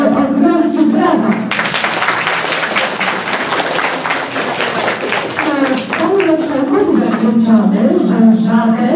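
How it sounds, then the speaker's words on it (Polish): An announcer speaks, then a crowd at a children's road-safety event bursts into loud, sustained applause for a visiting official, a member of the Mazovian regional board, before the speaking resumes. "proszę o gromkie brawa"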